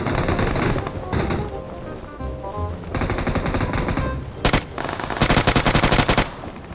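Rapid bursts of automatic gunfire from a video game, loud and dense, with fast rattling volleys and sharp single shots toward the end.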